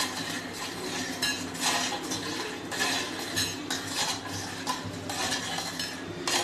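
Spoon scraping and clinking through a mustard paste mixture in a pan with turmeric and chili powder, steady busy stirring and utensil clatter close up, no voices.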